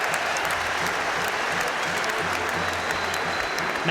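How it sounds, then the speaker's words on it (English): Stadium crowd of home supporters applauding steadily at a football match, a dense, even wash of clapping throughout with a faint low murmur underneath. "met by applause around the stadium from everyone in white."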